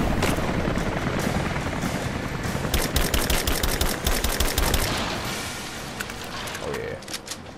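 Rapid gunfire bursts from a firefight in Rise of the Tomb Raider on PS4, dense crackling shots layered over loud game noise and some voices.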